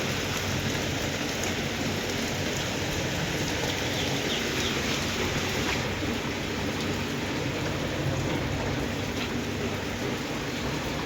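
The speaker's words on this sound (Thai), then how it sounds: "ฝนมันสาดเข้ามา" Heavy rain blows in and pours down steadily in a dense, loud hiss, drumming on surfaces nearby without a break, with no voices.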